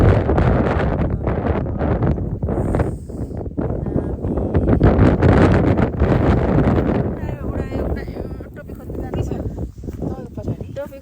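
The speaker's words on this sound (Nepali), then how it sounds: "हावाले टोपी चाहिँ उडाइदियो।" Strong wind on Tai Mo Shan hilltop buffets the microphone in loud, rough gusts throughout, with voices partly buried beneath the roar.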